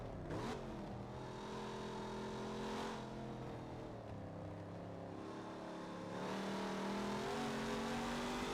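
Race cars lap the Daytona International Speedway oval in the Forza racing game, engines revving and shifting pitch as cars pass close by, with a louder surge of engine noise near the end.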